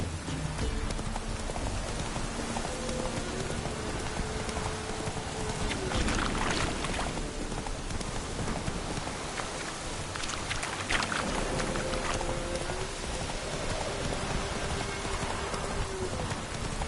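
Roach the horse trots along in The Witcher, steady rhythmic hoof clip-clops over an ambient outdoor bed with light rain-like patter, continuous throughout and without talk.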